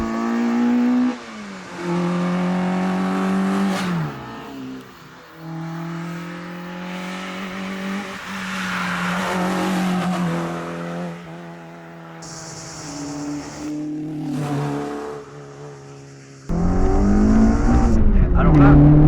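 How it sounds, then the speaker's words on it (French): A Peugeot 205 Rallye's carbureted engine revs up and down repeatedly, rising and falling howls close by, heard under and between talking, with a louder burst at the end. "on entend quand même les carburants, c'est impressionnant cette voiture"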